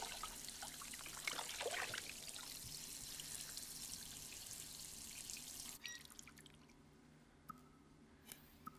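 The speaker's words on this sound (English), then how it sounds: "Splash." Water trickling and splashing from a sink in the video game D4, a steady wet dribble that cuts off abruptly partway through, leaving sparse quiet drips and clicks.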